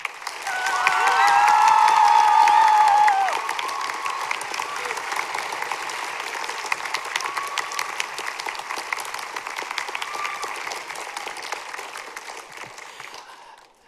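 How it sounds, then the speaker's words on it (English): Audience at a middle school spring concert breaking into sustained applause with some cheering, a loud whistle-like tone early, then steady dense clapping that slowly fades toward the end. "can we have a huge round of applause for Mr."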